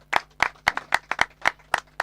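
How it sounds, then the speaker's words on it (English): A few hands clap in a steady, evenly spaced rhythm at an outdoor festival gathering honouring the Mayor of Mangaung, about nine sharp distinct claps, close and clear, over a faint low hum. "I would like to give the Mayor of Mangaung a round of applause."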